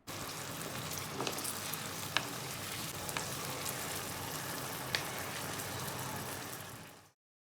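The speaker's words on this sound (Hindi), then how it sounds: "और चिकन को हम खूब भूनेंगे। 2 से 3 मिनट तक हमने इसे भूना है मीडियम फ्लेम पर।" Chicken pieces fry with ginger garlic paste in a pan over medium flame, giving a dense, continuous sizzle with scattered pops and crackles throughout until it cuts off abruptly near the end; no talking.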